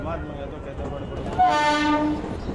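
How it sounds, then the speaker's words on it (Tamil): An electric commuter train rumbles and rattles in the early morning, then sounds a loud, sustained horn blast that fades away. "அதிகாலை தடதடக்கும் ரயில் ஓசையில் அசந்துவிடும் மக்களோடு"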